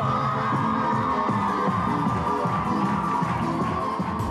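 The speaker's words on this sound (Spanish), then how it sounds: "¡Fuerte ese aplauso!" Studio audience clapping and cheering for a performer's entrance, a dense steady wash of applause with scattered whoops and shouts, moderately loud throughout.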